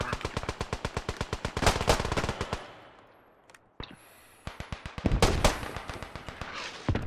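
Rapid automatic gunfire in the World War I shooter game Beyond The Wire: dense, evenly spaced shots rattle close and loud, break off into a short lull with one sharp report, then resume in fast bursts.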